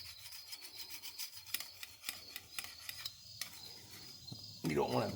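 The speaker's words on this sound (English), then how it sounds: "I like to get all these small pieces of" Small pieces of silicone scraped off a metal surface while fitting a rear PTO on a John Deere 425/445/455 tractor; a series of short, rhythmic rasping strokes, close and fairly quiet, ending in a louder scrape.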